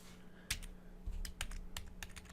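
Code being typed on a computer keyboard gives a quick run of sharp, close key clicks in irregular bursts over a faint electrical hum, with no voices.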